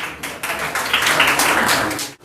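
Applause from a school audience for a student speaker at an Independence Day 2021 event, a steady burst of fairly close hand clapping lasting a couple of seconds before cutting off.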